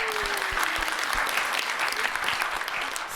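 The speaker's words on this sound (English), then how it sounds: "I think that deserves a round of applause." A theater audience at a Broadway pop concert gives a dense, sustained round of applause, loud and continuous for the whole stretch.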